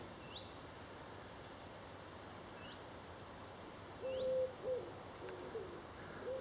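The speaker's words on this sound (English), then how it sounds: "Not sure what that is in the distance, not the wood pigeon, but something else calling" Distant birdsong on a rural summer circular walk near Marston Moretaine, with faint high calls repeating through steady background hiss, then a brief clearer call near the end.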